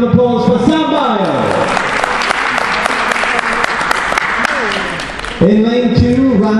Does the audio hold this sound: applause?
yes